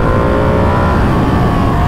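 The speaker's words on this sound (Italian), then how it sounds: "Zen è qui davanti col Kawasaki, sembra avere qualche problema" A Kawasaki motorcycle, its engine troubled after taking on water a few days earlier, runs loud and close on a mountain pass, with a steady, dense drone throughout.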